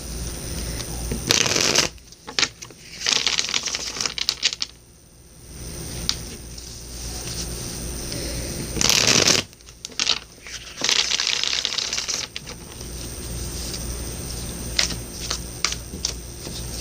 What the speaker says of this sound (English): I've been shuffling and meditating over them